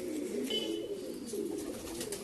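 Low, continuous cooing of loft pigeons kept for breeding, a soft rolling hum close by with no voices.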